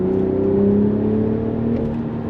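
BMW Z4 M40i roadster engine in sport mode, a loud steady droning hum with slowly shifting pitch, close and continuous over two seconds without voices.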